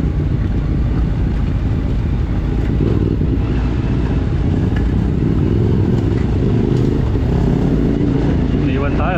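A Kawasaki Ninja 650 motorcycle rides along backroads with a loud, continuous engine roar and rushing wind, heard close up while a voice talks over it.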